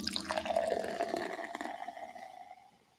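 Gin poured from the bottle makes a quiet, continuous gurgling and splashing trickle that gradually tapers off.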